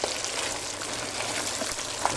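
A pot of jambalaya boils hard, giving a dense, even bubbling sizzle like steady rain, with a few faint knocks from stirring and no talk.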